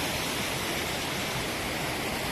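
Water streams run down a hillside on the Appalachian Trail near the Massachusetts border, a constant loud broadband rush like a small waterfall, steady and unbroken throughout.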